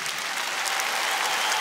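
Concert audience applauding at a show, a dense, even wash of clapping from a large crowd, sustained and loud throughout the short stretch.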